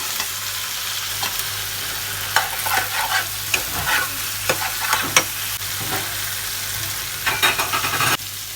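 Potatoes frying in a pan with oil and spices, stirred steadily, with a continuous close sizzle broken by repeated scraping stirs and clinks of a utensil.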